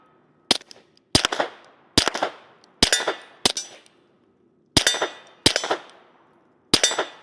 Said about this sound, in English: let's go ahead and take a few more shots with that